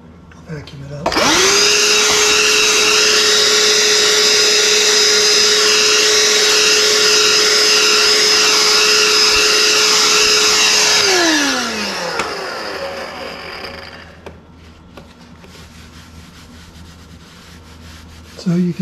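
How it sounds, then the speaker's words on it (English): A vacuum cleaner sucks up excess grout from a tile floor. It starts abruptly into a loud, steady motor whine that holds for about ten seconds, then winds down and fades into quiet room noise. "I'll vacuum it up."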